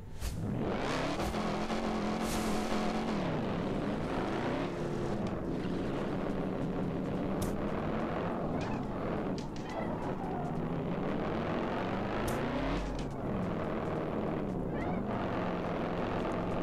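A drift car's engine in the Drive Zone Online racing game roars steadily for the whole stretch, its revs climbing and dropping repeatedly as the car slides through corners.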